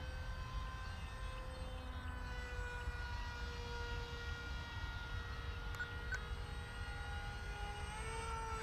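A small cardboard canard pusher model airplane flies overhead, its tiny motor giving a faint, steady high-pitched whine with slowly shifting pitch over soft outdoor background noise.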